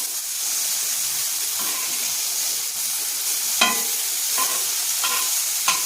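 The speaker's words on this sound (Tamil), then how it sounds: "வறுத்து கொஞ்சம் லைட்டாக எண்ணெய் போட்டு அப்படி போட்டு வறுத்து எடுக்கணும்." Stuffed okra shallow frying in a little oil in a pan, a steady bright sizzle throughout with occasional sharper crackles and spits, close and fairly loud, no voices.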